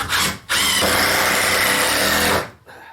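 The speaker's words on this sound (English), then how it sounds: "I'm putting new holes into here" A power driver whines at close range in a short burst, stops briefly, then runs in a longer steady burst before cutting out, drilling holes.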